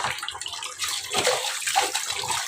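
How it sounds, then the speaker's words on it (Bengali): Steady running water splashing over red amaranth leaves being washed under a tap or in a basin, close and continuous with uneven gurgles and no speech. "কিভাবে ধুয়ে নিচ্ছি, সেটা তোমাদের সাথে শেয়ার করতেছি"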